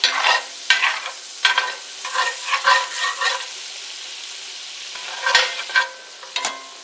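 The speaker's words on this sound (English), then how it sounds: "you want to scrape up all the crispies off the bottom" A utensil scraping browned bits off the bottom of a pan after cooking pork chops, a series of short rasping scrapes in bursts over a quiet sizzle, close up, no talking.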